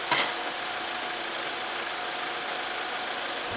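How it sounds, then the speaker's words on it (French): A motorhome engine runs at a steady idle during a vehicle inspection, a constant even drone throughout after a brief sharp noise at the very start. "Moi j'aime bien le bruit du moteur"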